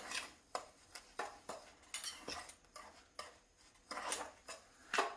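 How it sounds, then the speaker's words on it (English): Spoon scraping and clinking around a bowl as cinnamon, sugar and flour are stirred into apple pie filling, a steady series of sharp close taps and scrapes roughly every half second, no voices. "So I'm just going to kind of stir that in a little bit. Just kind of stir it together."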